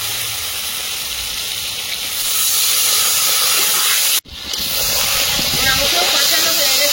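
Water poured into a hot pan of cashew-poppy-seed fried chicken masala sets off a loud, steady sizzling hiss close by that holds through the whole stretch, with one brief dip in the middle.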